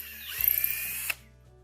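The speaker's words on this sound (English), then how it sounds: "And then he's going to go ahead and drill those holes out" A power drill with a decent-sized bit bores holes in wood during a bird feeder build, whirring up sharply, running steadily for under a second, then stopping abruptly, heard up close.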